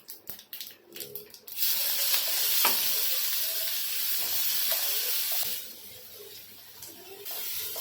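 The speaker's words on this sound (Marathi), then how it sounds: "इथे लसूण आणि मिरची ना छान भाजून घ्यायचं" Garlic cloves and a green chili fry in hot oil in a pan with asafoetida and curry leaves. A few sharp clatters come first, then a loud hissing sizzle that eases partway through and swells again.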